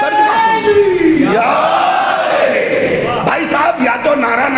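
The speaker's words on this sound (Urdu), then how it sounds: "بھائی صاحب یا تو نعرہ نہ لگائیے یا نعرے کا جواب صحیح طریقے سے دیجیے" A large gathering at a religious celebration gathering in Bhavnagar answers a slogan with loud, massed, drawn-out shouting voices, sustained and close throughout.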